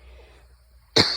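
A single sharp cough bursts out close to the microphone near the end, coming after near silence with faint outdoor background in a garden.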